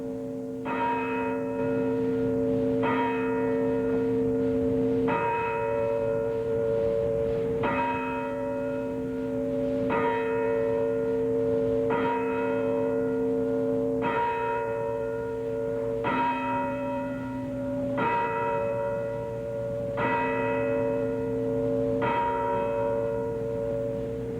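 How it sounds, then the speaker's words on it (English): An old conservatory church bell rings out from its tower, about ten slow, evenly spaced strokes whose long resonant hum carries from one strike into the next, alone, with no voices. "At 11:30 a.m., the bell was tolled for the last time."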